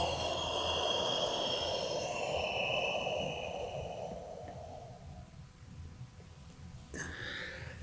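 A long, deep breath drawn in and let out during a self massage for releasing energy, the airy rush filling most of the stretch before fading into a quiet pause and a short final exhale.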